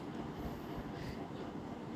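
A passenger train runs toward Kamalapur station in Dhaka, heard from inside a carriage as a low, steady rumble with faint wheel noise, quiet and even throughout with no voices.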